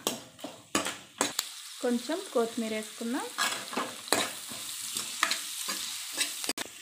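Thinly sliced onions and green chilies with a pinch of turmeric sizzle in a pan as a spoon scrapes and stirs in uneven bursts, while someone speaks briefly over the cooking.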